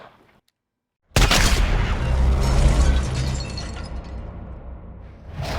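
A single loud, close gunshot fired through a suppressor of the wrong caliber bursts out of near silence, then a long, rough, echoing decay trails away for several seconds.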